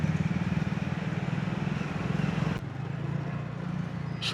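A motorcycle engine rumbles close by at a steady low throttle amid Mumbai traffic noise, with a brief shift in tone partway through.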